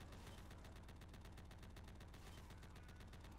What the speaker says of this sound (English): It's like a muffled gunshot.